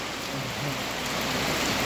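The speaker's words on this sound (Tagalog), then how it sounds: "Ulang-ulan, bagyong-bagyo." Heavy rain pours steadily in a dense, even hiss, continuous and fairly close, with no voices.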